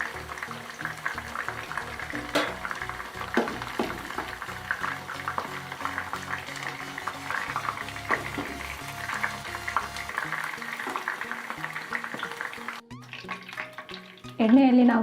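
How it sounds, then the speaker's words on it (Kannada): Chicken pieces fry in hot oil with a continuous crackling sizzle, steady throughout with occasional stirring clatters, before a brief quieter stretch at the end. "ಎಣ್ಣೆಯಲ್ಲಿ ನಾವು ಈ ರೀತಿ ಫ್ರೈ ಮಾಡಿಕೊಂಡು ತೆಗೆದಿಟ್ಕೋಬೇಕು"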